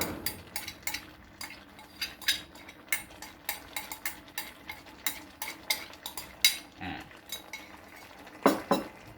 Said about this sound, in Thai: ผัดไปนะครับ ผัดไปให้ทั่วนะครับ